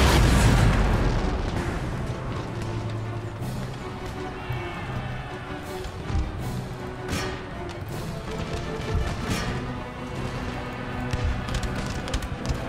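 Massed musket volley from line infantry in Empire: Total War, a dense burst of booming, crackling shots at the start that decays into a rolling rumble of scattered distant gunfire and battle noise.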